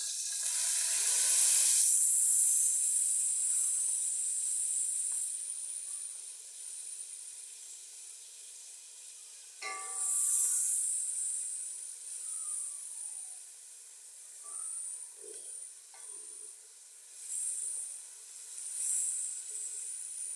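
Onions hit hot oil in a home kitchen pan, cooked as the base for a colocasia-leaf (arvi ke patte) dish. A loud hissing sizzle surges at first, eases to a steady crackle, then flares again in short bursts.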